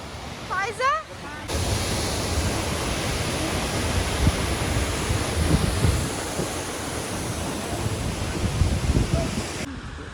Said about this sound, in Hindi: ये जो पानी की साउंड थी ना, ये बहुत लाइक रिलैक्सिंग थी